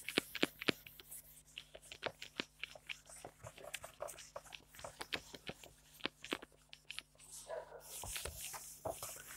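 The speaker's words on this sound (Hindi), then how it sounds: "डॉगी सबको दौरा चढ़ गया, अब ये सब भौंकना स्टार्ट कर दिया" Several dogs bark in short, repeated bursts, some close and some farther off, with occasional whimpers and yips scattered through a steady indoor background.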